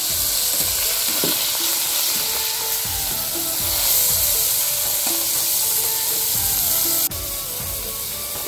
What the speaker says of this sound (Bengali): হালকা করে ভেজে নিই